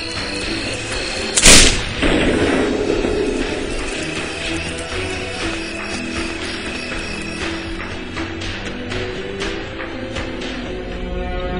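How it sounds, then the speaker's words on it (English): Enhanced cannons blasting a prison wall in the video game Risen 2: Dark Waters, one loud sharp blast early on, followed by clanking mechanical and ratcheting sounds over a steady game background. "the enhanced cannons can be used to blast a huge"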